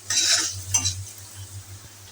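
Bitter gourd (korola) frying with spice paste in a large pot, stirred with a utensil: a short loud scrape-and-sizzle burst, a second brief stir, then a steady low sizzle with a faint hum underneath.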